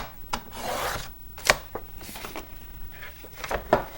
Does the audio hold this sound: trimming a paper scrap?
yes